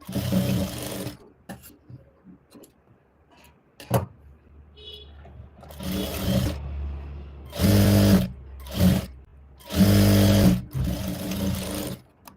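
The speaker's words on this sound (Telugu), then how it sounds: "మనకి మిషన్ వైపుకి ఖర్చు ఉండేలా చూసుకొని స్టిచ్ అనేది వేసుకోవాలి" A sewing machine stitches a simple blouse in loud, close bursts of rapid whirring that start and stop repeatedly, with quieter handling sounds and pauses between runs.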